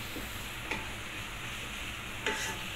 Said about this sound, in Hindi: ये बस तकरीबन 5 मिनट इसको फ्राई करना है